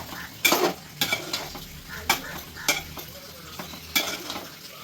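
A spoon stirs ground masala into chicken cooking in a pan, giving repeated scraping clanks against the metal over a steady low sizzle. The strokes come at irregular intervals about every half second to a second and are heard close up.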